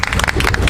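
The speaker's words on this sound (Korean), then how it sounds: "큰 박수로 한번 모시겠습니다." Audience clapping to welcome a lecturer at an outdoor street lecture, a brief burst of brisk, fairly loud applause from a small gathering, the individual claps audible as a quick patter.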